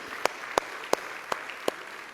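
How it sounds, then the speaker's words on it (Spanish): A church congregation claps for the Lord in five sharp, evenly spaced beats, sounding as unison clapping over a faint room background. "Dale fuerte el aplauso a Él"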